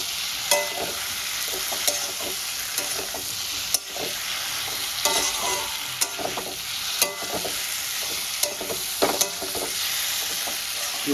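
Katla fish head with elephant foot yam, potato and spices sautés in a pan, a continuous close sizzle broken by regular scraping stirs and occasional sharp clicks of a spatula against the pan.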